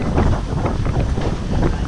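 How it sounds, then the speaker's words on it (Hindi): Strong wind in Darband, Tehran buffets the microphone with a loud, continuous rumbling roar that doesn't let up. "इतनी तेज़ हवा चल रही है यहाँ पे"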